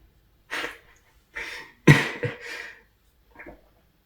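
Several short coughs, one stronger burst in the middle followed by a couple of quicker ones, then a faint final cough, close and dry.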